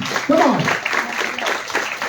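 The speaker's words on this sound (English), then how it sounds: "Once again, big round of applause to both of them" At a health quiz event, the audience gives the quiz participants a round of applause, with steady clapping throughout and a voice talking over it.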